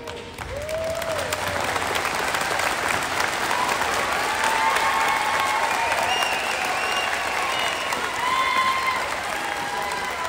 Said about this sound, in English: we will congratulate them and clap for them one last time